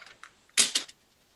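A quick mechanical clatter of a Nikon camera shutter firing a few times in a short continuous burst on the low setting, moderately loud, with faint clicks before it.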